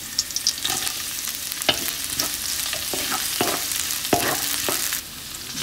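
Onion, garlic and ginger sizzle in hot oil as they are sautéed for balbacua, steady frying hiss with repeated scraping stir strokes of a utensil against the pan, fairly close and without talk.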